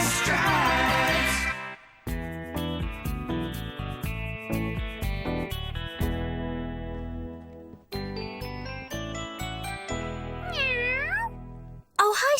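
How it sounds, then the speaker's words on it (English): A cat meowing in the 2003 children's cartoon Sergeant Stripes. Bright, tinkling cartoon music runs throughout, with sliding, swooping meow-like tones rising and falling near the end, close and loud. "Sergeant Stripes, meow, meow"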